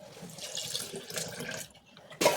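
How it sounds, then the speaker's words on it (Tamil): Tamarind water poured into a pot of snake gourd sambar, a splashing, trickling stream that wavers for about a second and a half, pauses briefly, then ends in a short sharp splash. "புளி தண்ணி சேர்த்துக்கலாம் கொஞ்சம்."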